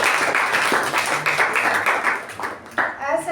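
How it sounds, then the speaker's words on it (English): An audience at a Toastmasters meeting gives a speaker a round of applause, a dense burst of close hand clapping that thins out toward the end. "a thunderous round of applause to Toastmaster Raja"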